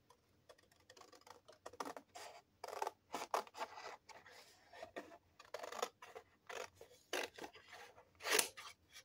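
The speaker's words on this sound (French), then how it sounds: "Obligé de couper au ciseau là." Scissors snip through kraft paper for a mini album, a run of short crisp cuts in uneven rhythm, close and fairly quiet, ending with one louder snip.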